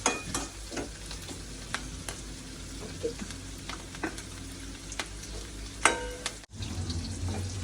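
Onions sauté in a pan with turmeric during home cooking, a continuous soft sizzle with occasional clicks and scrapes of a stirring spoon, close and with no talking.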